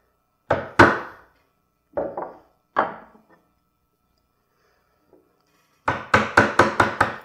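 A bench chisel makes chop cuts across the grain of wood for a diamond-shaped inlay, about 1/4 inch deep: a few sharp mallet-struck knocks spaced apart, then a quick run of five or six close, loud strikes, with no talking.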